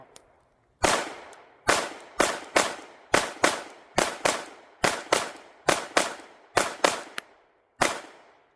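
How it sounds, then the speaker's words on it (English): Pistol rounds fired from a Zev Oz9 Hypercomp crack out sharply, about seventeen loud shots in uneven pairs and singles with short echoing tails, and no talking over them. "First rounds through an Oz9 Hypercomp."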